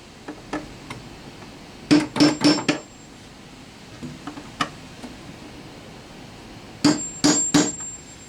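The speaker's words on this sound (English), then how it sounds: "Getting these little brads in place, you have to be able to use the hammer with both hands." Two quick bursts of sharp hammer taps driving small brads into wood, three or four strikes each, with scattered lighter ticks between them in a quiet room.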